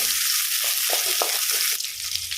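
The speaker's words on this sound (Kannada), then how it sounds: "ತಕ್ಷಣ ಅದಕ್ಕೆ ಏನಾದರೂ ಹಾಕಬೇಕು ಇಲ್ಲದ್ರೆ ಸಿಡಿತದೆ ಬೆಳ್ಳುಳ್ಳಿ" Garlic and onion fry in hot oil in a pan, giving a continuous close sizzling hiss with small pops and a brief stir near the end.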